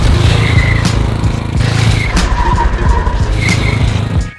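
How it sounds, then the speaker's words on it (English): A motorcycle's rear tire skids and squeals during a power-brake slide while drifting, several loud scrubbing bursts over the engine noise. "It's actually another power brake with a slide on the end."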